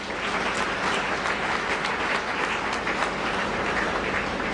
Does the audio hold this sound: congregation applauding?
yes